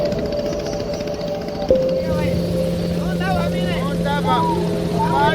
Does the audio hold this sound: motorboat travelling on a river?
yes